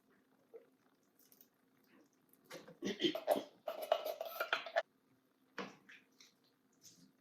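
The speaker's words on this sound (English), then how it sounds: "Now I'm going to add my beans and the liquids." Canned beans and their liquid are poured into a pot of beef and potato stew, giving a few faint clinks, then a wet glugging pour with metallic scraping, and a final brief slosh.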